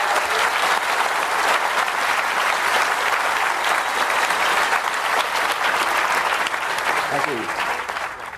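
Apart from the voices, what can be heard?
audience applause at a book festival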